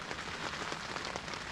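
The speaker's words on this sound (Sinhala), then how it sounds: "මේ වැස්සට ඉවරෙන පාටක් නෑ." Heavy rain pours steadily at a solo campsite near Bible Rock (Batalegala) in Sri Lanka, a dense, unbroken hiss of drops drumming on surfaces, close and fairly loud with no voices.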